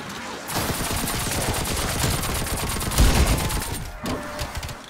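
Nailgun fired rapidly in a round-based shooter game, a dense continuous stream of sharp repeating shots, loud and close, pausing briefly near the end before resuming.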